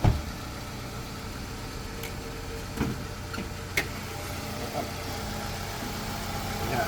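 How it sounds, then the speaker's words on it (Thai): A Toyota Camry engine idles smoothly with a low, even hum and a few faint knocks, heard up close with no talking. "เครื่องเดินนิ่งเรียบนะครับ"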